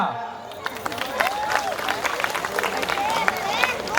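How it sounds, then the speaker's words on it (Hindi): An audience claps through a Ramleela play staged by a children's group at a residential complex, with steady scattered applause and crowd murmur sustained throughout at moderate loudness. "तालियां।"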